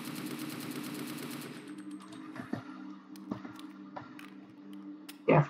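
Rapid automatic gunfire in a Roblox SCP roleplay game while shooting a crate open, a fast rattling burst at first, then scattered single shots and clicks over a humming background, ending in a loud blast.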